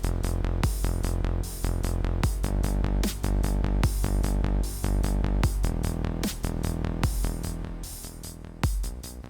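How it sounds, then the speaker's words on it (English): A punchy analog synth bass pulses through a rhythmic pattern, each note opening with a sharp snappy attack, steady and upfront with no voices. "this is a typical analog synth bass with a snap at every start"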